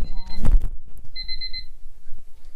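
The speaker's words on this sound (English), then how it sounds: "my other timer is going off for my meeting" An electronic timer alarm goes off indoors, sounding a short run of bright, loud beeps after some brief handling clatter.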